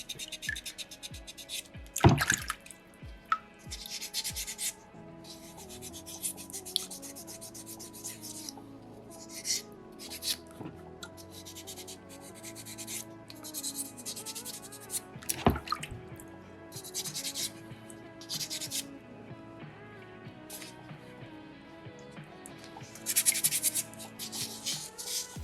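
Sandpaper rubs steadily over a small soapstone bear carving, making close, dry scratching strokes in uneven bursts with occasional louder scrapes, heard alone without talk.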